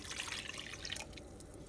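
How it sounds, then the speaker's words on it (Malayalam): Water is poured onto sugar and crushed cardamom, a close, steady trickling splash for about a second that then stops, leaving quiet. "ഈ വെള്ളം ഇതിനകത്തിട്ട് ഒഴിച്ച് കൊടുത്തത്"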